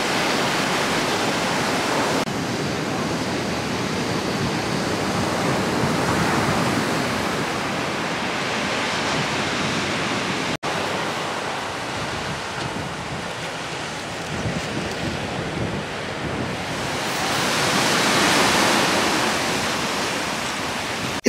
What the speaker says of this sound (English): Let's enjoy the views and the sound of the Pacific Ocean.